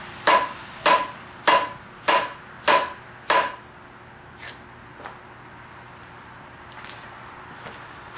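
Six evenly spaced hammer taps ring out close and crisp on a wooden hammer handle, followed by a few fainter, scattered knocks.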